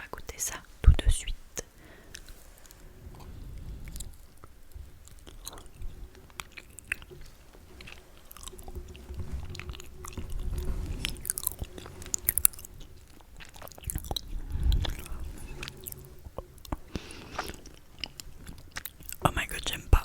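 Close, soft chewing and moist mouth sounds of someone eating a Japanese red bean sweet, with quiet whispering in French running throughout.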